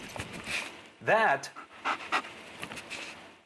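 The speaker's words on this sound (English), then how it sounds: "is the sound of a dog on the job." A German Shepherd search dog pants excitedly in quick, breathy bursts, with a loud run of rapid breaths near the middle and a voice speaking over parts of it.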